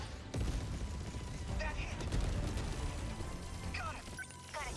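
Piercing cannons fire in the 13 Sentinels: Aegis Rim video game as a dense, continuous barrage of booming and crackling blasts with mechanical clanks, loud and sustained throughout.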